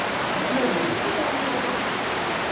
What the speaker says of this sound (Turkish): Gayet bize gördüğünüz yoldan da su akıyor.